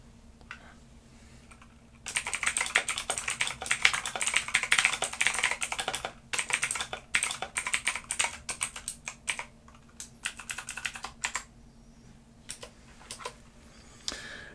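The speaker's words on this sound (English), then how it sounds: "So typing with a keyboard is super easy" Keys clatter on a keyboard connected to a Note Air 4 C e-reader in quick, uneven bursts of close, crisp clicks, opening after a short quiet stretch and thinning into scattered taps near the end, with no talking.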